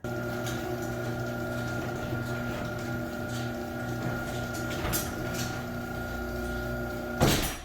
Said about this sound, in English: we're going to go ahead and run the opener